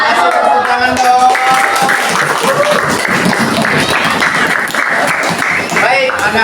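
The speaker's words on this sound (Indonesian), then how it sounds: "Kasih tepuk tangan dong." A class of schoolchildren applauds with dense, steady clapping for several seconds while voices chatter and call out over it.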